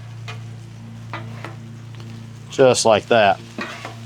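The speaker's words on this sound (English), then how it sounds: "we're gonna take our chorizo meat and we're gonna put it right on top of our poblanos" Chorizo meat sizzles steadily on a Blackstone griddle over poblanos, a soft continuous frying hiss under a low hum, with someone talking briefly near the end.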